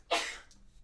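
A single person sneezes once at a game jam, a short sharp burst that fades quickly, followed by a faint trailing breath in an otherwise quiet room.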